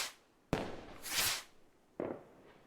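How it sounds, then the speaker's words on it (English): Fireworks go off in RimWorld: a sharp boom, then a burst of crackling fizz, and another softer pop with sparkle afterward, loud and close against quiet. "The fireworks are always best when they do the boom and the..."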